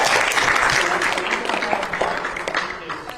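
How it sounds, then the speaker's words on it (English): A TV presenter claps in a studio, giving a burst of hand-clapping that starts fairly loud and fades over a few seconds, with a voice talking over it. "I'm clapping for them in studio."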